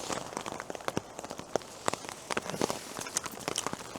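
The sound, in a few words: rain dropping with gusts of wind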